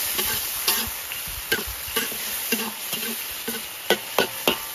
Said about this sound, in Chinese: 油热，把生姜、干辣椒、糟辣椒倒进来